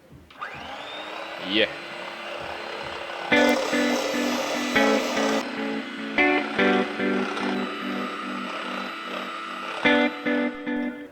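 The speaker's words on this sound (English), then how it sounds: "The hand mixer will be on volume 2." A hand mixer whips heavy cream on speed 2, a close steady motor whine with rattling beater clatter that changes as the mixer moves through the bowl; a voice briefly speaks.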